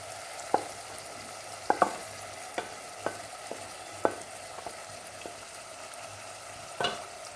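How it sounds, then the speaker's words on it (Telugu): Onions with gongura chutney and small prawns cook quietly in a pan, a soft low sizzle broken by a series of sharp spatula clicks and scrapes as the mixture is stirred. "ఉల్లిపాయలు బాగా వేగి మగ్గిన తర్వాత ముందుగా మగ్గించుకున్న పచ్చడిని కూడా వేసేసుకుంటున్నాను."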